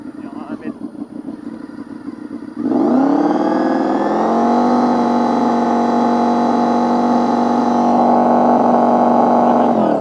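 A petrol engine fitted with a homemade exhaust goes from a choppy idle, with voices talking over it, to a sudden loud, sustained rev that holds high and steady near the microphone for several seconds.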